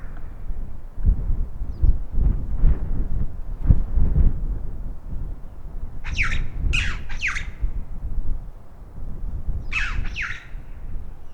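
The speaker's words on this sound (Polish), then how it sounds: "Jedyne co tutaj słychać to jest wiatr i ptaki, kruki czy wrony." Ravens or crows give several harsh squawking calls in bursts across the latter half, over steady wind rumble in the Kyrgyz mountains near a remote village; calls are moderately distant and clear against the low wind noise.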